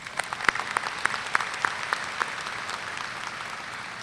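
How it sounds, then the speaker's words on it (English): A room full of people at a university commencement ceremony clapping steadily, a dense patter of applause at moderate volume, with a few louder individual claps early on. "Let's also give them a round of applause."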